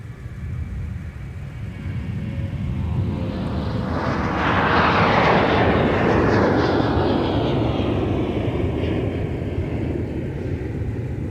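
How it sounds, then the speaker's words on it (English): A Sun Country Boeing 737-800 in Amazon livery departs at Minneapolis–Saint Paul airport, its jet roar swelling to a loud, broad rush midway and then easing off as it climbs away, with no talking. "that departure with the 738, of course, had the Amazon paint scheme, but it's operated by Sun Country"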